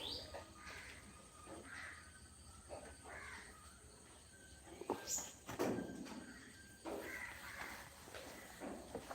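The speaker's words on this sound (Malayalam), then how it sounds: "എന്താ മൈന പറയുന്നേ" A myna bird gives repeated harsh, throaty calls at a moderate distance, spaced through the clip, with a louder cluster in the middle over faint background noise.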